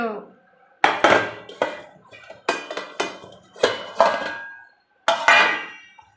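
Metal pots, pans and cutlery clatter and clink in a sink during dishwashing, several sharp bursts of banging and scraping separated by short pauses, close and fairly loud.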